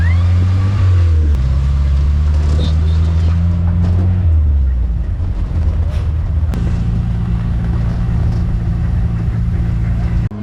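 An alcohol-fuelled car in Brazil pulls away, its engine revving up through gear changes with rising and falling tones, close and loud, then settling into a steady driving drone.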